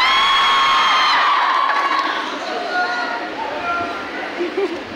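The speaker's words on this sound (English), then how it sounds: "Thank you for the cheer" Crowd of students cheering and whooping at a college freshers' meet, loud and close at first, then fading into scattered shouts and chatter.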